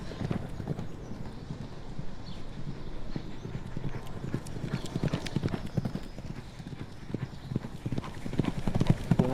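Hooves of horses in training clip-clop steadily on the ground, with a busy irregular rhythm of many overlapping steps and occasional snorts, moderately close with outdoor ambience.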